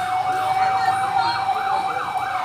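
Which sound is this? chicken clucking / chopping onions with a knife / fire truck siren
fire truck siren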